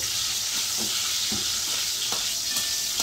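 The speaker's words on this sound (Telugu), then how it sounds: "ఇప్పుడు మనం వేసుకొని మంచిగా ఫ్రై చేసుకుందాం." Eggs sizzle steadily in a hot pan while being fried for an egg curry, a continuous close hiss with faint stirring scrapes and no talk.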